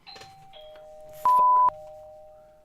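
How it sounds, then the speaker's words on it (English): A doorbell rings at home, an electronic two-tone chime sounding amid quiet game music, one clear ring standing out loud and alone. "Goddamn doorbell."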